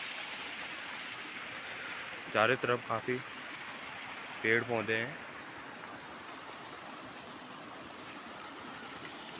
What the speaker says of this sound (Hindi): यहाँ से नदी आती है ऊपर 2 पहाड़ों के बीच में